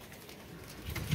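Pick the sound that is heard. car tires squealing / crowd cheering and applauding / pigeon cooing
pigeon cooing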